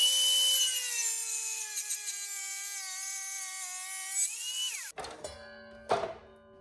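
A motorized saw gives a steady, droning whine while cutting a small piece of wood for a pipe in an improvised setup. The pitch dips as the cut finishes, followed by a few sharp knocks and thunks.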